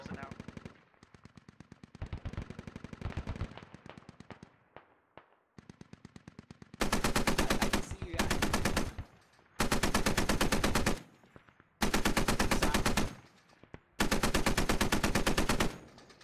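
Suppressing machine-gun fire in the game SquadOps: long loud automatic bursts separated by short pauses, following earlier scattered single shots and quieter rapid fire nearby.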